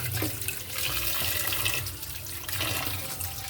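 Saba bananas being rinsed under running water before boiling, a steady close splash and trickle of tap water running continuously without talk.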